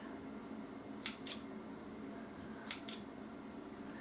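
Scissors trimming hair at home, two pairs of quick double snips a second or so apart, close and crisp over a quiet room hum.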